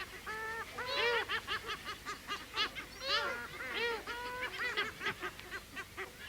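A crowded nesting colony of seabirds on the desert shores of the Gulf of California calls nonstop, overlapping honking and squawking cries from many birds nearby, rising and falling in dense bursts.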